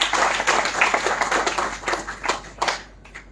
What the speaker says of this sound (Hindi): एक बार अपने लिए जोरदार तालियां बजाएं